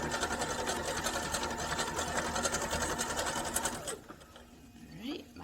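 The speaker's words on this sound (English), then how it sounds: "We're just going to go back to the sewing machine and put it under. I still have it on the zigzag stitch." A sewing machine runs a zigzag stitch through layers of fabric for a headband, a loud fast steady whirring rattle that stops after about four seconds, followed by quieter handling noise.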